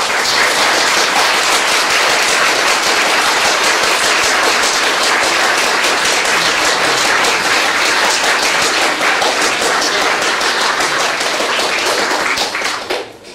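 Loud, dense applause from a large audience at an outdoor Chopin concert and honours ceremony by the Bug river, steady clapping sustained without pause for over twelve seconds before starting to fade at the end.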